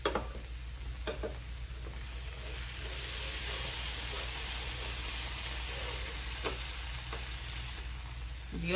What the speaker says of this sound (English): So So we're gonna try to flip these big patties here.